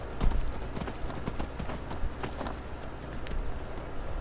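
A horse gallops in the video game Skyrim, its hooves beating a quick, busy clip-clop rhythm that is close and loud throughout.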